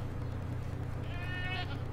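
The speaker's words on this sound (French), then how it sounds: "Oh non, pas encore la chèvre." A goat tied to a stake as forktail bait in The Witcher 3 bleats in a short wavering cry near the end, over a steady low game rumble.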